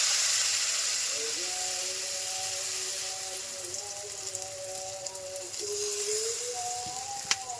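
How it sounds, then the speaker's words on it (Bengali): Patishapta pitha batter, poured a little at a time into a wok with a small amount of oil in a village kitchen, gives a steady close hiss that runs under a person talking throughout. "তারপর খুব অল্প অল্প করে ব্যাটারটা কড়াইর মধ্যে দিতে।"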